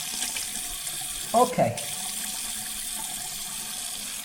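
A tap runs steadily while someone rinses their face at a sink before a shave, a constant watery hiss broken by a short spoken word partway through.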